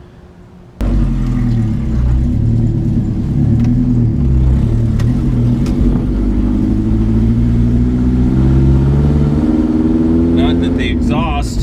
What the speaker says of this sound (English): The exhaust isn't plenty loud enough to override the sound of the tires.